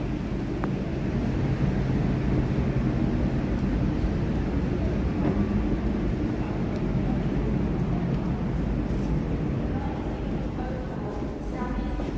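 A steady, continuous rumble of a ten-coach passenger train rolling along, loud and unbroken for the whole stretch.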